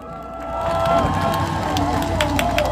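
Concert crowd at an indie band's live show swelling into cheering and clapping, a dense wash of voices and applause that builds over the first second and holds steady, with some shouting mixed in.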